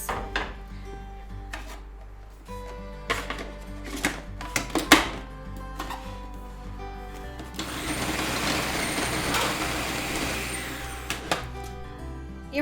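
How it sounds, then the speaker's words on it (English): Beets and medjool dates start with a few loose knocks and clatters, then a food processor whirs into a steady loud grind for several seconds, with occasional knocks as it blends. "we're gonna place them into the food processor with our beets. And we're gonna process that until it's smooth and delicious"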